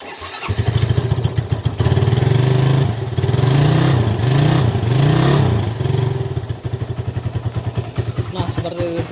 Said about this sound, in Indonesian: Kemudian saya akan starter motornya